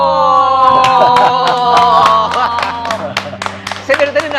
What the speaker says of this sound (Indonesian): Saya dari tadi nahan banget pengen tepuk tangan sekencang ini